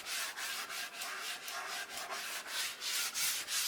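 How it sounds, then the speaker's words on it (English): Wooden logs hand sanded for a shelter build, a steady rasping scrub in even back-and-forth strokes, close and continuous with no talking. "hand sanding the logs"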